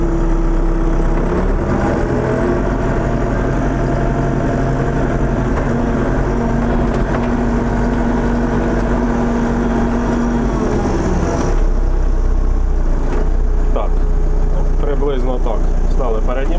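A tractor engine drones steadily as the machine drives forward across a field, a loud, low continuous rumble with a shift in tone near the end. Speech is heard over it.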